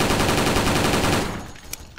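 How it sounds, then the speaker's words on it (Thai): A Gatling gun in the online shooter Special Force fires a loud, continuous rapid-fire stream that fills the first second and a quarter, then tails off into quieter rattling and a brief final shot. "แกลลิ่งยิงดุมาก"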